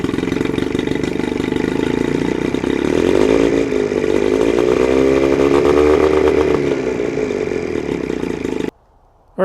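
A Johnson/Evinrude 9.9/15hp outboard engine, after sitting all winter, runs loud and close, its buzzing tone rising as it is given gas, then cutting off abruptly near the end.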